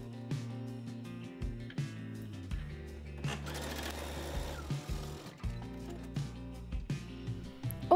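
Sewing machine running a seam two centimetres from the folded top edge of pyjama blouse fabric, a steady mechanical hum with rhythmic stitching taps, briefly rising in pitch and speed midway through.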